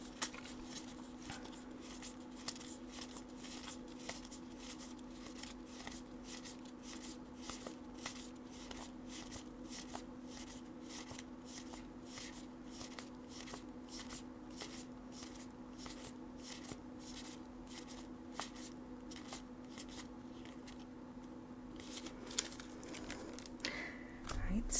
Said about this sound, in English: we're going to flip through some of these, starting off with the spell and trap cards